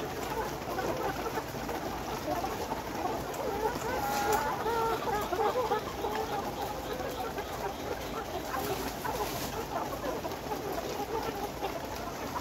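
Caged Sonali-type layer hens around 118 days old, weighing over 1.5 kg, give scattered soft clucks over constant farm-shed noise and a steady high hum, with no single call standing out strongly.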